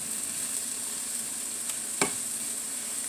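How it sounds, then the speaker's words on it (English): Sliced mushrooms sauté in a pan for a quick mushroom spaghetti, giving a steady, soft sizzle with a single sharp tap or scrape partway through. "I'm just going to let those saute"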